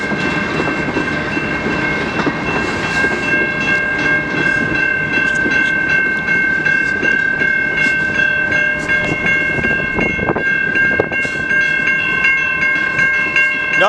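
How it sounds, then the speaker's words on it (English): A CN mixed freight train rolls through the Harrison Ave railroad crossing in Trenton, Michigan, sounding a loud, sustained horn near the King Road crossing over a continuous rumble and clatter of passing cars. "He's blowing his horn for King Road right now."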